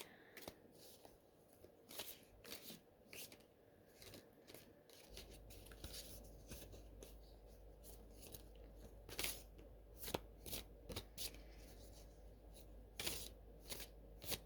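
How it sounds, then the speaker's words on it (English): Dry riffling and flicking of a deck of tarot cards being shuffled, a steady run of crisp, close-up rustles and snaps with a low hum underneath. "if there are any cards that jump out as I'm shuffling"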